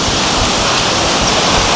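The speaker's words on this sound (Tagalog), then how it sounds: "Kusog ang tubig nak. Kay diri alang gani kusog kaayo ang agas" The Panigan River in the Philippines runs with a strong current, a loud, dense, continuous rushing roar close by, with no voices.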